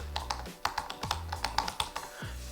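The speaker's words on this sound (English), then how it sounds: "you know when you've pressed a key because that is that very audible click" Rapid, crisp clicks on a 2016/2017 MacBook Pro laptop keyboard with an irregular typing rhythm, close and fairly quiet, with a few brief pauses between bursts of keystrokes.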